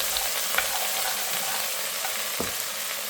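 A South Indian curry mixture sizzles steadily in a pan while being stirred, a continuous frying hiss with occasional soft scrapes of the spoon, close and moderately quiet, with no voices.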